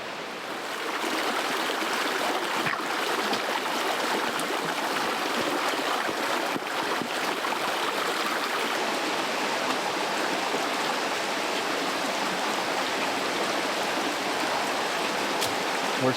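A creek in Pacific Northwest woods rushing steadily, a broad close wash of flowing water that stays even throughout with no one talking.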